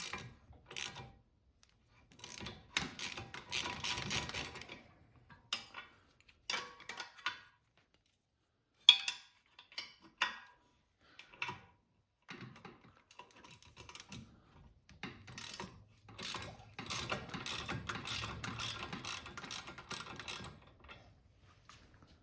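A ratchet wrench removing nuts from the fender of a wrecked Harley-Davidson Sportster, close bursts of quick clicking strokes separated by pauses and small metallic handling noises.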